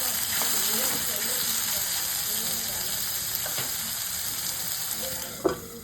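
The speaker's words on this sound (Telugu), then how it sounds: "ఫ్లేమ్ని మీడియం ఫ్లేమ్లో పెట్టుకొని బీరకాయ ముక్కల్ని ఉడికేంత వరకు మధ్య మధ్యలో కలుపుకుంటూ" Ridge gourd pieces fry over a medium flame, giving a steady, moderately loud sizzle, with occasional scraping stirs and one sharper clink of a spoon near the end.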